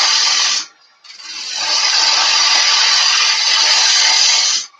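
A woodturning lathe cuts a wooden spindle, with a loud, steady, bright shearing hiss of the tool on the spinning wood. It breaks off briefly near the start, then runs on until a final short scrape.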